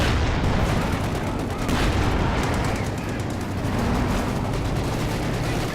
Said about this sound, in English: They're just randomly firing at each other. Throwing grenades left and right.